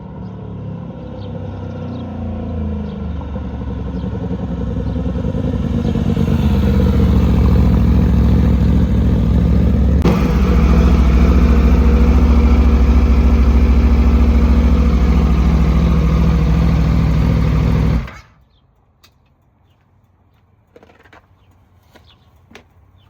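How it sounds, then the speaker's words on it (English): An Aprilia RSV4 motorcycle engine starts and settles into a loud, close, rumbling idle with a rising revving surge, then cuts off abruptly into near silence. "let's put the bike back together, turn it on, see how it does."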